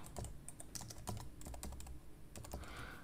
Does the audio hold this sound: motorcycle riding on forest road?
no